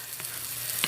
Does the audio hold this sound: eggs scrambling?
yes